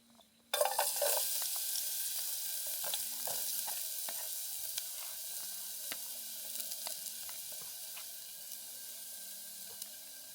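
Ginger and garlic hit hot oil in a pot with a sudden loud sizzle, then settle into a steady, crackling fry that slowly fades, with occasional stirring clicks.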